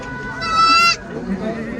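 A goat lets out a single loud, wavering bleat lasting about half a second, heard near the start over a background of people talking and general noise.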